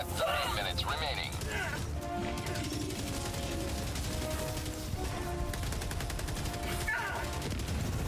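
Automatic weapons fire in Helldivers 2 against robot enemies, bursts of rapid shots and crashes crackling through a busy battle mix, with players talking over the action.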